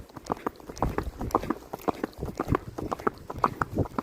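A horse's hooves beat an uneven trot-like rhythm on a mountain trail, close and clear, with a few soft clip-clops blending into light wind and movement noise.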